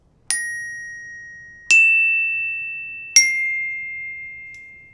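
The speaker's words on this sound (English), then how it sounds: "most of our time will be spent on an instrument like our bells." Three bright metallic glockenspiel strikes, evenly spaced, each ringing out clearly and decaying slowly in an otherwise quiet space.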